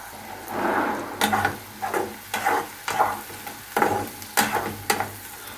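Onion frying in a pan for a spicy chicken dish, a steady close sizzle broken by repeated scraping stirs in an uneven rhythm, with no talking.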